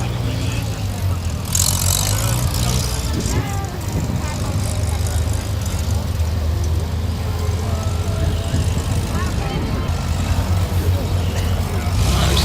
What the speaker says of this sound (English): The last few ferrets coming round and making their exit.